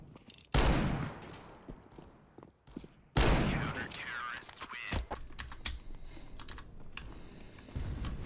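Loud R8 revolver shots in Counter-Strike, two sharp blasts roughly two and a half seconds apart, each trailing into a decaying echo, followed by busy game noise with clatter and a bit of talk.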